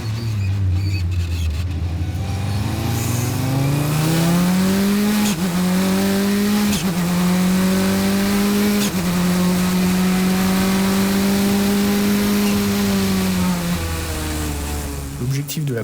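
A race car at the start of a race at Magny-Cours, its engine screaming at full throttle, loud and close, rising in pitch and holding high with brief dips at gear changes.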